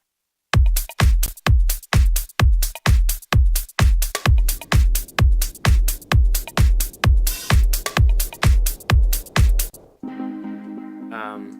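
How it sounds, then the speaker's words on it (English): A punchy sampled drum loop with steady kicks and snare hits in a repeating groove, loud and close, ending with a brief tonal tail. "So all together they sound like this, the drums."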